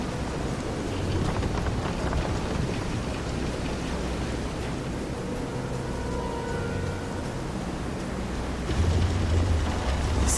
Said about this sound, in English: This is some storm.